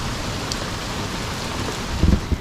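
Steady rain falls on and around a sailboat at anchor, a dense, even hiss with a few heavier drops thudding close by near the end.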